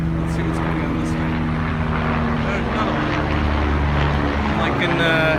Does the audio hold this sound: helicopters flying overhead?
yes